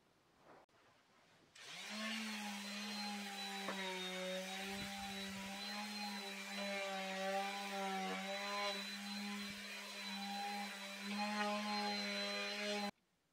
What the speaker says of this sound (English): it's time for a final sanding with 240 grit